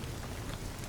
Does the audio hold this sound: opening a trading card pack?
no